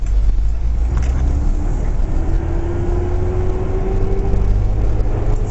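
A manual-transmission car pulls away from a full stop in first gear after a timed clutch release. A steady, loud low engine drone is heard from inside the cabin, with a faint rising whine, and there is no speech.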